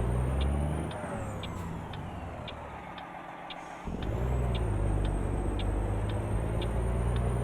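A heavy truck engine in American Truck Simulator, hauling fertilizer and straining in third gear, drones steadily and loudly throughout, easing off slightly for a few seconds midway before building again, with no talking.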